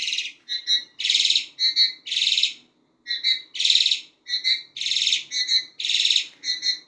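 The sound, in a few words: Hong Kong mynas (Jalak Hongkong) pair calling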